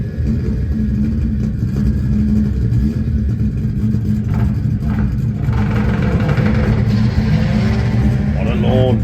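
Old school Toyota Supra launching down a drag strip at a test day, a loud continuous engine roar close by that builds toward the end, with crowd noise and voices underneath.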